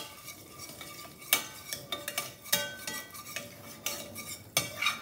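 Thai chili paste being stirred and fried in a pan while making Thai vegetable coconut cream soup, with repeated clinks of a metal spoon against the pan over a faint background sizzle.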